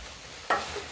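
A valarai keerai chutney mixture in a pan on a gas stove gets one brief stir, a soft scrape with a light sizzle over a quiet background.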